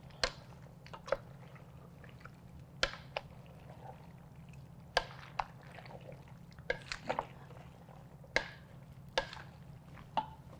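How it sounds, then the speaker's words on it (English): Pasta primavera with vegetables, cherry tomatoes, lemon juice and pasta water is stirred in a pan, giving faint, irregular clicks and scrapes of utensil on cookware over a low steady hum. "Give that a really good stir."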